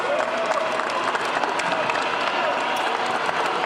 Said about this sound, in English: Normally the applause is much louder